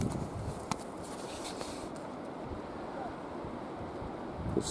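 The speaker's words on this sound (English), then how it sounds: "wind's blowing real hard" Strong wind blows hard outdoors near a smoky fire, a steady, loud rushing roar buffeting the microphone with gusty swells and no break throughout.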